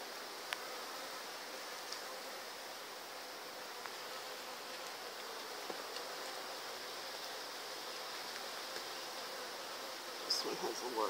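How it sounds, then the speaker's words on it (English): A constant hum of numerous honeybees swarms around a top bar hive being inspected, an even, close buzzing with occasional single bees zipping past and a short faint rustle near the end. "It's a lot of bees."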